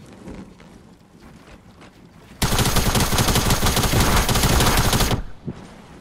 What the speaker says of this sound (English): I need to kill the kid with the minigun.